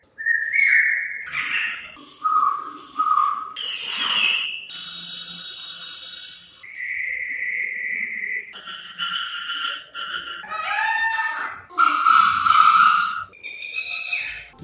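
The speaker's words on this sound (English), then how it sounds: "is playing the different voices or sounds of birds, which is very natural" A sequence of varied bird calls and whistles, each distinct and fairly clear, playing one after another with short gaps, like recorded songs, played for visitors at an elephant training centre exhibit.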